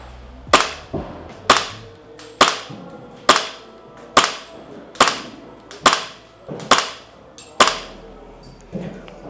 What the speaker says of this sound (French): Donc là, on vient d'effectuer 10 tirs.